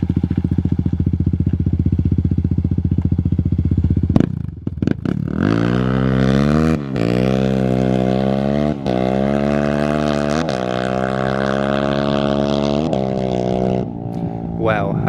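Kawasaki KLX351 and KLX250 dirt bikes accelerate hard in a drag race, one engine idling steadily before a loud, close roar rises through the gears, with rising pitch sweeps and brief dips at each shift.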